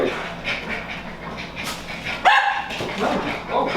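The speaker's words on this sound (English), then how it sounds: "what are you still barking for?" A dog barks and pants indoors, with one sharp bark standing out partway through among breathy panting, while a person talks over it.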